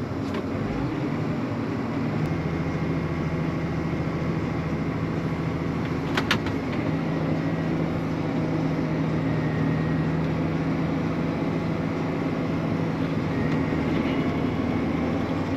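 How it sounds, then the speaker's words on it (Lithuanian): A quiet tractor engine runs steadily in a field during wheat sowing, a constant low hum with a sustained droning tone heard from inside the cab, with no talk. "Oi, koks tylus šitas traktorius"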